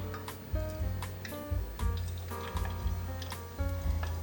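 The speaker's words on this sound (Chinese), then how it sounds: "锅内放入足够的油，把素蚵仔放进来炸" Vegan oysters coated in sweet potato starch frying in a pot of oil, a steady loud sizzle with bursts of crackling and popping, alone without talk.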